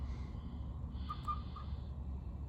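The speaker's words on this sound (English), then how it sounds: "I hear a beeper. Yeah, it even works." A faint electronic beeping from the backup alarm of a Western Star 4964F truck, a few short tones near the middle, over a steady low rumble of background noise.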